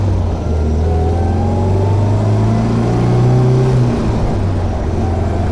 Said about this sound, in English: The early cars just rev so nicely.